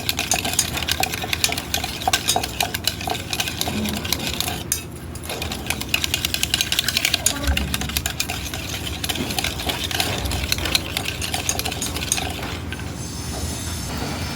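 A ladle stirs sugar into curd for cake batter, a rapid, continuous rhythmic scraping and clacking against the bowl, close and steady with a brief pause partway through.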